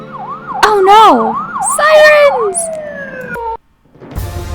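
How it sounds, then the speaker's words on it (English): Wailing police sirens from a video game, several rising and falling electronic tones overlapping loudly for about three seconds, then cutting off abruptly before a quieter rumble returns. "Sirens!"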